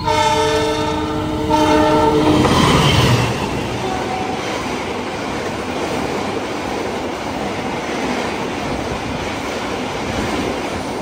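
The Argo Anggrek express rushes past Cipunagara station, heard from aboard the Majapahit train: a loud, sustained horn blast for about three seconds, then a steady roaring rumble of wheels and carriages that continues unbroken.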